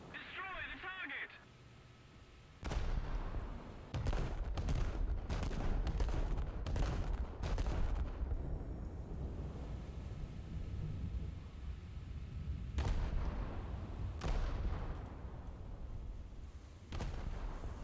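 Naval main guns in a realistic US Navy versus Imperial Japanese Navy warship battle game fire in several heavy booming salvos, loud and close, with rumbling tails between them and someone talking over the barrage.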